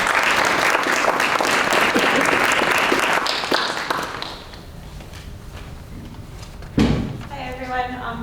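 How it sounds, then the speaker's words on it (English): Audience applause at a public forum on PFAS, steady and loud for about three seconds before thinning into scattered claps, followed by a sharp bump and room noise. "Please help me give you a round of applause."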